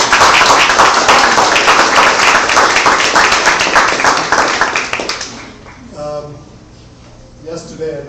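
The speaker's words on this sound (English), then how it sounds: "Big applause for her." Audience applause at Pratt industrial design thesis presentations, a broad, dense crowd clapping that holds steady for about five seconds and then fades out, with a voice briefly resuming afterward.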